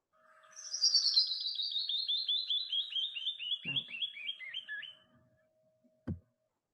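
Recorded bird song: a rapid series of high, descending chirped notes whose individual sounds grow longer as the song slows over about four seconds, clear and alone, followed by a couple of short low thumps.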